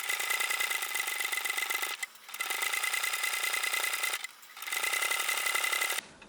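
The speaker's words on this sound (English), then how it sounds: "we're just stitching that edge down" A sewing machine runs in steady, fast bursts while stitching down the edge of a small quilted zippered pouch, loud and close, with two brief pauses before the whirring resumes.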